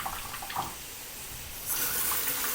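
Tap water runs into a bath being filled for a pet, a steady gush that swells louder partway through, with no voices over it.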